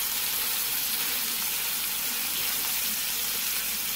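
Homemade hamburger patties fry in a pan with a steady, even sizzle that holds at moderate loudness throughout, without talk.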